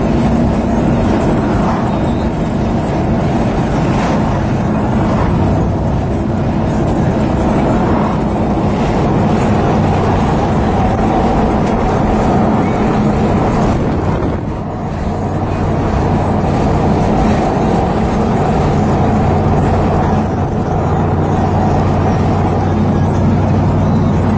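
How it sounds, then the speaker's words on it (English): A supercharged Saleen Mustang S281 SC drives along, the engine drone and a faint supercharger whistle mixing with road and wind noise in a steady, loud wash that continues throughout. "You can really hear that supercharger when it's top up."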